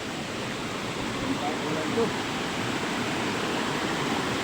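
Bumbungan waterfall at Twin Falls, heard from above as a steady, broad rushing roar with no breaks, loud and constant throughout.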